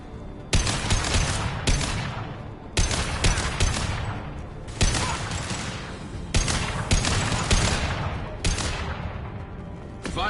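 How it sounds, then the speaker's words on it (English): About five heavy, high-impact gunshots in Mass Effect 2, each a sharp loud blast trailing into a long rumbling decay, spaced roughly two seconds apart. "Firing a high-impact shot"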